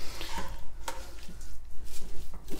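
Sweet vermicelli with added sugar is stirred in a pan, giving soft irregular scraping and light sizzling with a few sharper utensil taps, close and fairly loud, no talking.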